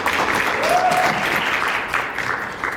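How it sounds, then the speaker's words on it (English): An audience at an education and training forum seminar claps in welcome, a dense, steady round of applause from many hands that fades a little toward the end, with a brief voice faintly audible underneath. "So Dr. Tapiwa Gundu, we welcome him with a round of applause, please, ladies and gentlemen."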